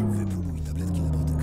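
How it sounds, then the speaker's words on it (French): A truck engine in Euro Truck Simulator 2 gives a deep, steady rumble that stays loud and close for a moment with no talk over it. "je pensais pas que ce camion avait ce bruit de moteur"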